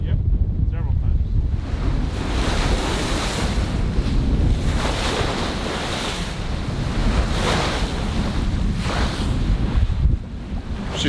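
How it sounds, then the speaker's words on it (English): Loud ocean surf and gusting wind batter a sailboat beating upwind at sea, with a constant roar of water and wind buffeting the microphone throughout. "We've been taking waves all day."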